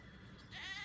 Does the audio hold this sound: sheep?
yes